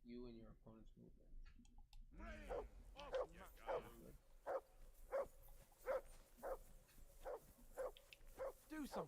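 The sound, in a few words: dog barking in video game Kingdom Come Deliverance II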